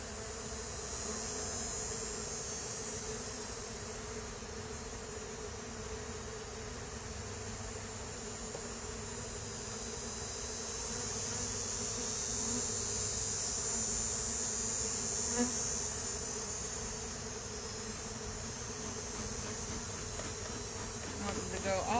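Honey bees buzz in a dense, steady drone around an open hive, a continuous humming swarm sound with faint handling noises, moderately close.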